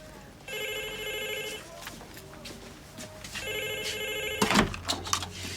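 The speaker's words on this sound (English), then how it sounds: "who else would ring this phone at this time?" A landline telephone rings in a café, sounding twice in clear two-part bursts over background room noise, followed by a clunk as the handset is picked up.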